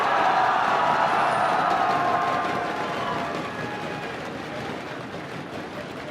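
A large esports arena crowd at the IPL 4 Las Vegas 2012 League of Legends winner finals roars and cheers for Team SoloMid, a loud, dense wall of voices that slowly fades.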